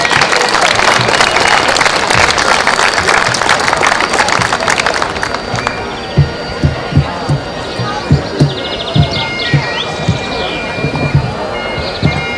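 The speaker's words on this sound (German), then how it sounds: "Viel Vergnügen und einen großen Applaus für die kleinen Pipers aus Frankfurt." A large crowd applauds at a Highland Gathering in Peine, a dense roar of clapping that fades after several seconds. Sparse individual claps and birdsong follow, along with distant chatter, as the young Frankfurt pipers take the field.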